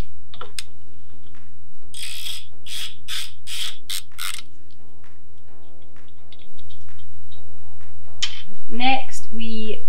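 Ratchet loosening foot nuts on the lower legs of a FOX suspension fork, several rapid pawl clicks in a row, close and crisp, followed by squeaky metallic fiddling and scraping near the end.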